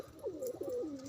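A pigeon coos softly and steadily while feeding its chick indoors, a low wavering call rising and falling over about a second, close and alone.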